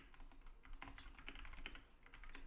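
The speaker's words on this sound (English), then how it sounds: "Sorry, I was typing." Typing on a computer keyboard during an online call, a quick run of faint, soft key clicks in steady bursts, no voices over it.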